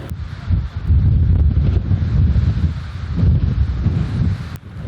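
Strong wind buffets the microphone on a mountaintop at about 1200 metres during an enduro mountain bike event, a loud, continuous roaring rumble with surging gusts and no talk.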